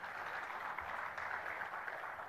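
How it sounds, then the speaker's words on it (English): Faint applause at a wedding photography awards event for a competition judge, a soft, even wash of clapping from a distant audience that holds steady throughout. "Let's give him a huge round of applause."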